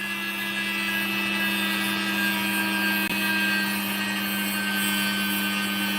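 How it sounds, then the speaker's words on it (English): A power grinder cuts away a piece of a computer part with a continuous high whine and hum, loud and steady for the whole stretch, with a faint catch partway through and no talking. "I'll grind it away."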